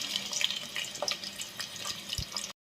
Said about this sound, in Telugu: ఆయిల్ కాగిపోయింది ఆనియన్స్ వేసుకుందాం